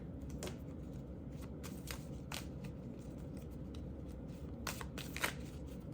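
Tarot cards are shuffled and handled at close range, giving soft papery riffles and brushing slides, with a few sharper snaps of cards hitting together standing out above a steady low background hum; no one speaks.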